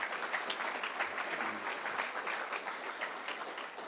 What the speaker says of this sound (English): So big round of applause for my grandsons